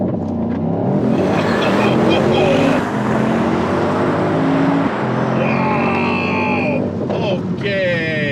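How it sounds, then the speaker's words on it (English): A Mercedes-AMG GT63 launches under launch control, its engine revving hard and pulling through quick rising gear shifts, loud and close from inside the car, with a person speaking over it. "let's try a launch control sequence"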